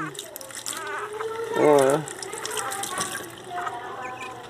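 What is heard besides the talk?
running water while bathing a Pinscher puppy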